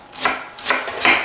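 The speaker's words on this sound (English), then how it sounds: "we're going to cut as thin as we can here too" Three knife strokes slice food very thinly on a cutting board in a sandwich-and-wedges kitchen, each crisp cut evenly spaced about half a second apart, close and fairly loud with no talk.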